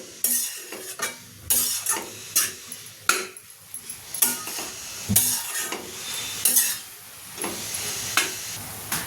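Fenugreek leaves and peas are stirred in a pan with salt for methi matar bhaji, giving irregular spatula scrapes and knocks over a soft sizzle and faint steam, close and uninterrupted by voices.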